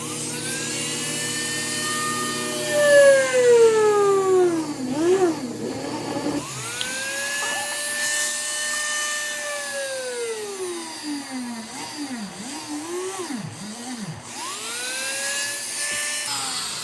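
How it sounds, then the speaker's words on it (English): A small power drill whines as it bores holes in a plastic Breyer model horse, its pitch sliding up and down as the motor speeds up and slows, with short pauses between bursts. "So I'm going to drill a couple holes."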